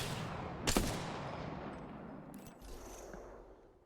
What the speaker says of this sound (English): It's not good that they're shooting and whatever.